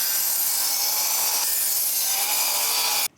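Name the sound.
saw making angled cuts in wood for DIY car ramps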